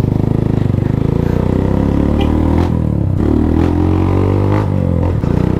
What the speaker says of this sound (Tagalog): test ride naman natin syempre para malaman natin kung the best ba talaga tong motor na to